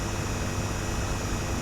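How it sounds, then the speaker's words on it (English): A steady, dense engine drone in a game about digging a hole fills the moment, constant and loud without any pause or change. "I just hear engine noises."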